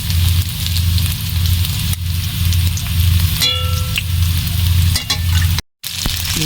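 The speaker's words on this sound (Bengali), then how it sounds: "এখন আমি বাটা মশলাটা দিয়ে দেবো।" Ground spice paste sizzles loudly in hot oil over already-fried greens stalks and potato for a fish roe curry. The frying hiss is steady and close, with a brief break near the end.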